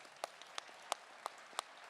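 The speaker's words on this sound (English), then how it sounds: "Can we have a round of applause for her?" Sparse audience applause at a youth development forum: a handful of separate, sharp claps spaced about a third of a second apart, fairly faint against quiet room noise.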